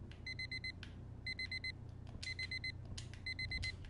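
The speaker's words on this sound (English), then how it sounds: "The alarm going on." A repeating electronic alarm beeps in bursts of four-tone chirps, several cycles over a low rumbling background, fairly clear and steady with short gaps between groups.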